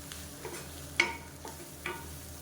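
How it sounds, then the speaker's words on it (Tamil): Greens sautéed in a pan, heard as a soft sizzle with a few light stirring scrapes and one sharper utensil tap, close and quiet with no talking. "அந்த கீரை வந்து லைட்டாக அப்படி வதங்கினா போதும்"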